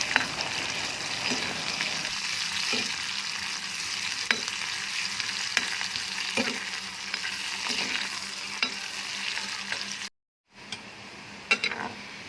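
Sliced onion rings fry in a pan for pasta, a continuous close sizzle broken by regular scraping stirs of a spatula, with a brief silent gap near the end.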